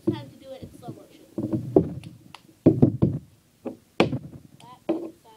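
Cup-song routine played slowly, with a cup tapped and knocked on a table and hands clapping in a spaced, deliberate pattern, up close, with a voice speaking between hits.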